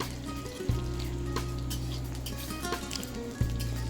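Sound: frying cauliflower pieces in oil

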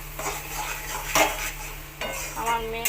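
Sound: stirring fish mash with garam masala in a pan

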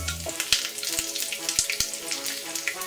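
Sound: mustard seeds spluttering in hot oil for tomato chutney

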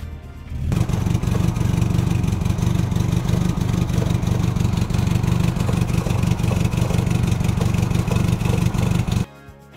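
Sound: old car engine with leaky exhaust

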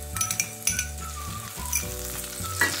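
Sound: washed rice frying in melted ghee

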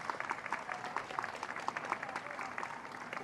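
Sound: applause for the dogs shown at the show

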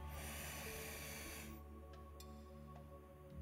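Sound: breathing in during pilates exercise

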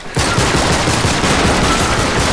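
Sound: gunfire in the video game Uncharted 3

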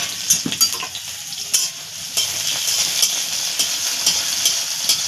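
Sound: beans and green chilies frying in a pan

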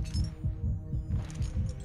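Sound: heartbeat in the video game Cold Fear

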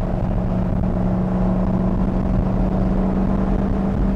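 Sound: 1964 Corvette Stingray rebuilt 327 V8 engine running

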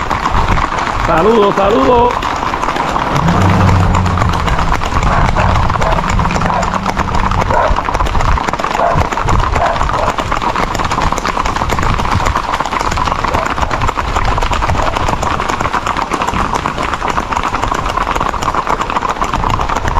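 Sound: horses' hooves clip-clopping

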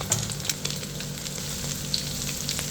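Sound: stir-frying instant noodles with carrots and oyster sauce

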